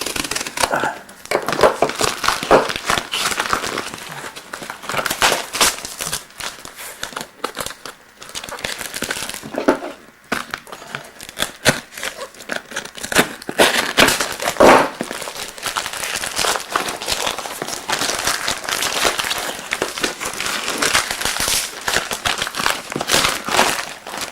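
A heavily taped cardboard box holding a camcorder gets torn open. Tape rips and crinkles loudly and almost continuously for about 24 seconds at close range, with no talk.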